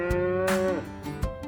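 A single long, low moo from a cow, close and clear, with a couple of brief thumps around it.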